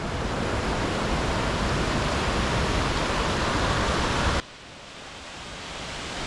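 Loud, steady broadband roar of the large Gveleti waterfall in Georgia, dense and continuous, dropping suddenly in level near the end before slowly building again.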